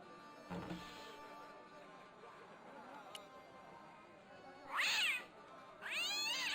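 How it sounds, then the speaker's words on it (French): Cat meows twice in a Broken Sword point-and-click adventure game, two clear rising-falling cries near the end, with a soft earlier sound and quiet game background in between. "Il n'est pas très aimable, ton chat, Necho."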